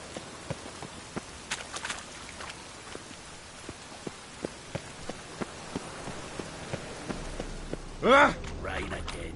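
Rain in The Witcher's Gwent card game falls as a steady soft patter with sharp, regularly spaced drips, and a brief louder splash-like burst comes near the end.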